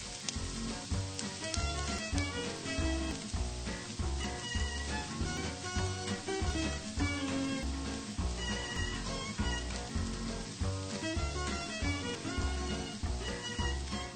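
Dough frying in hot oil in a pan, a loud continuous sizzle with crackling pops running steadily throughout, no voices.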